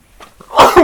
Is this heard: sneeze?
yes